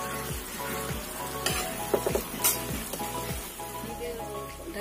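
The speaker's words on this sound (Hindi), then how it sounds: "मसाला भूनते भूनते ये पक जाएगा" Masala and black-eyed peas frying in a pan, with a steady close sizzle and rhythmic scraping of a spatula stirring every half second or so, alone without voices.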